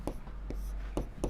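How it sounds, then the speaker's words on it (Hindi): A pen scratches across paper in a few short, separate strokes while working out a Class 10 maths problem, near and fairly quiet. "लिखेंगे"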